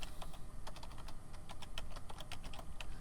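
Rapid, uneven key clicks on a computer keyboard as an IP address is typed, close and crisp in a quiet room with no talking.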